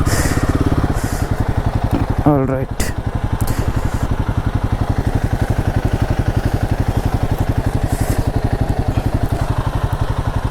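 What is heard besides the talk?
motorcycle engine while parking the bike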